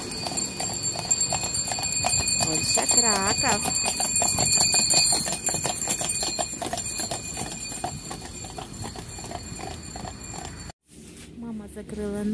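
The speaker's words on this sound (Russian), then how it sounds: "Слышу звон бубенцов." Horses trot past a stop in Kraków, Poland, with a rhythmic clip-clop of hooves and jingling harness bells ringing steadily, while people talk nearby.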